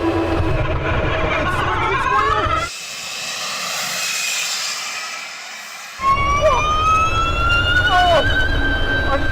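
A 1,000 horsepower hypercar at full throttle on a damp quarter-mile run, with a loud whine rising steeply in pitch, a brief quieter dip midway, then another climbing surge.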